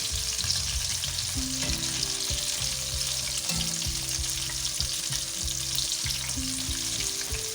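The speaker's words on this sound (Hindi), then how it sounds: "इसलिए हमने इनको बिल्कुल लो फ्लेम पे फ्राई करना है" Chicken tender pops deep fry on a low flame, giving an even, continuous bubbling sizzle throughout, steady and close with a faint low tonal hum underneath, and no one speaking.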